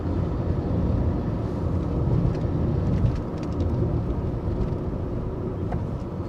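Steady low rumble of a Tata Altroz BS6 2020 engine while driving, a continuous broadband drone with road roar filling the cabin and no pauses.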